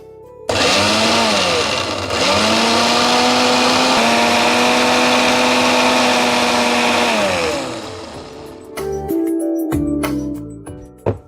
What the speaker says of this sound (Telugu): ఇప్పుడు మనం దీన్ని మిక్సీ పట్టేసుకుందాం.